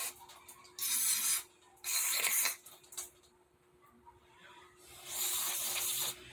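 Carburetor cleaner sprays in three loud bursts of hiss into the throat of a dirty stock carburetor on a 150 cc buggy, with a quieter pause and faint handling noises between them.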